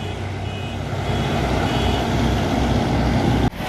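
Truck caught dumping garbage in Khandepar, heard as a continuous loud diesel engine rumble with vehicle noise throughout, a brief cut near the end; any reversing beep is hard to single out.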